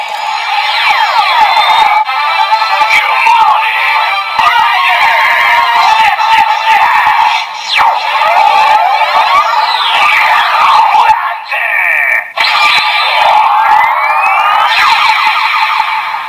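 A loud electronic DX Zeztz Driver Kamen Rider toy transformation belt blares warbling synth sirens and sweeping tones, with bursts of jingly effects and brief pauses, all without speech.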